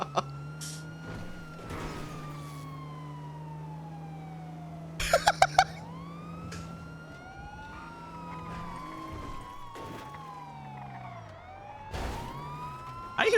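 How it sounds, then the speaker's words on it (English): Police car sirens wail and sweep up and down continuously in a video game, rising and falling loudly with several overlapping tones, joined by a few sharp bursts of noise and a cough. "I hear so many sirens coming out of that car."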